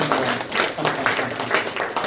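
A church congregation claps in welcome for a newly registered member, a dense, close burst of hand applause pulsing in slight rhythmic waves, with no talking over it.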